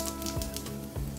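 Panch phoron seeds with a bay leaf hit hot mustard oil in a pan and give a soft, continuous crackling sizzle with faint scattered pops, heard close and moderate in level with no voices.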